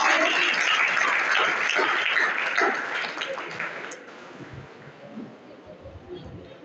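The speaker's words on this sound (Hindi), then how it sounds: "सही जवाब है, इनके लिए भी आप तालियां बजाइए" Students clapping together in a school classroom, a dense burst of applause that is loud at first and then thins and fades toward the end, with some voices mixed in.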